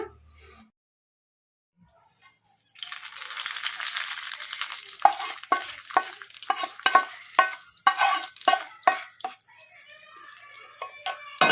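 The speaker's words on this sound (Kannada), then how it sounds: "ಕರಿಬೇವು ಹಾಕೋಣ ಫ್ರೈ ಆಗಿದೆ ಅಲ್ಲ" Curry leaves crackling in hot oil for a tempering over a medium flame, bursting into a sizzle after a quiet start, then a run of sharp spluttering pops and stirring clinks close by.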